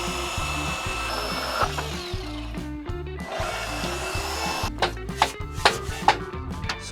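A power tool cuts through the internal stiffener of a fence gate to shorten it by half an inch, making a steady whirring drone punctuated by sharper bursts of cutting noise toward the end, close and fairly loud.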